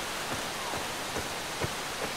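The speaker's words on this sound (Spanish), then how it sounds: "Y Alá hizo que lloviera. Y llovió" Steady rain hisses down continuously in the video game Far Cry 2, with occasional louder drops or patters breaking through the even wash of noise.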